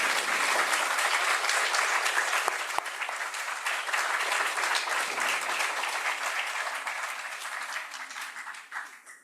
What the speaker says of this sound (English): I'm asking you to give a warm round of applause to our panelists who deserve it